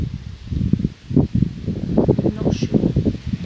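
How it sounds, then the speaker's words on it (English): Gusty wind at an abandoned old dairy farm, blowing as a rough, uneven rush of rustling noise close to the microphone, heard alone. "It's hard because it is windy."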